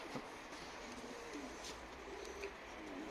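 Pigeons coo in a loft yard where week-old young play pigeons take to the air, the soft, steady cooing carrying over a constant low outdoor hum with no talk.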